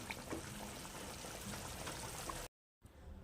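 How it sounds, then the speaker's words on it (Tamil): Tamarind rasam simmers in a pan, a faint steady bubbling and gurgling that runs unbroken, drops out briefly, then resumes more quietly. "நம்மளோட புளி ரசம் நல்லா கொதிச்சிக்கிட்டு இருக்கு"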